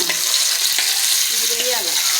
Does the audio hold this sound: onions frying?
yes